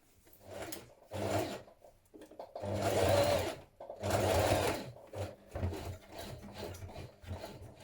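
A sewing machine edge-stitches around a shirt cuff in several short bursts of fast rattling stitching, with quiet pauses between runs, close and fairly soft.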